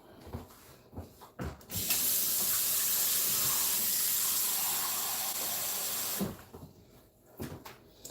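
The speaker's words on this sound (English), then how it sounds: "I have about a cup of water that I'm putting in." About a cup of water pours into a chili pot on the stove with a steady rushing hiss lasting roughly four seconds, framed by a few light kitchen knocks and clatters before and after.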